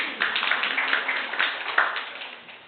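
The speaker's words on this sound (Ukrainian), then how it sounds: "Давайте її привітаємо оплесками." Council members and guests applaud during an extraordinary village council session in a meeting hall, giving a dense, even rattle of clapping that sounds muffled and slightly thin.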